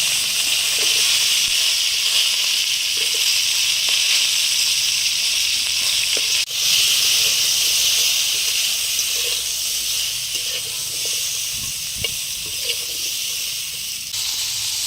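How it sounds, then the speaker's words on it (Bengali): Flat beans dropped into hot oil left from frying eggplant give a loud, dense, continuous hiss and sizzle over a strong fire, with a sharp clack partway through and no voices. "বেগুন ভাজার তেলের মধ্যে সিমগুলোকে দিয়ে দিলাম।"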